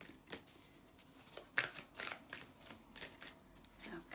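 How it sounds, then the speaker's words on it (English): Oracle cards being shuffled, a run of crisp riffling slaps and flutters in irregular bursts, fairly soft and close, with no voice. "Okay, a couple more shuffles."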